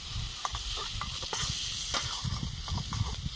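Ginger paste being stirred into a sizzling dish in a pan, with a steady frying hiss and soft repeated scraping strokes of the spoon, close and continuous.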